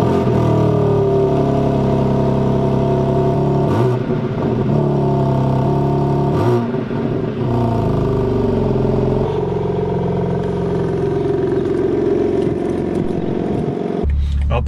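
A new BMW M4 pulls away on the road, its engine droning steadily and swelling as it accelerates, loud and close throughout with shifts in pitch as the revs change.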